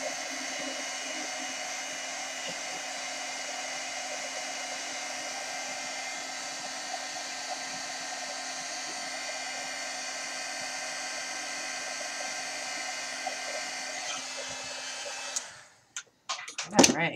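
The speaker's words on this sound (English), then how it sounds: "Let me get my industrial heat gun here." An industrial heat gun blows steadily for embossing on a craft tag, a loud continuous whirring rush with a faint tonal whine that holds for about fifteen seconds before switching off, followed by brief handling clatter.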